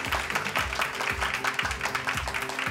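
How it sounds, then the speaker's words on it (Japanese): Audience applause greets three film directors walking on stage at a Japanese movie premiere talk event, a steady moderate clapping that keeps going throughout with no break. "大きな拍手をお願いいたします"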